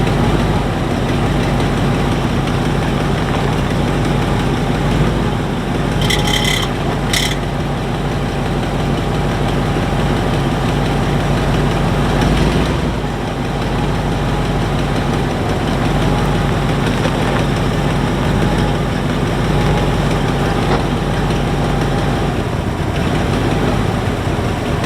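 Ford Econoline Club Wagon van engine running steadily while a newly installed transmission is tested through its gears, a continuous close, loud rumbling idle with slight shifts in tone.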